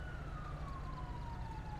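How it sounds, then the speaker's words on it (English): A video game ambulance siren wails with a slowly falling pitch over a steady low rumble, continuous and moderately distant. "that's the ambulance right now you're hearing."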